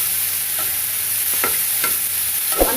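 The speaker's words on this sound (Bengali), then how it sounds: "দিয়ে আমি ভালো করে নাড়িয়ে চালিয়ে নেব।" Mushrooms frying with ginger paste in a pan, a steady sizzle with a few soft scrapes of a spoon stirring through, close and even.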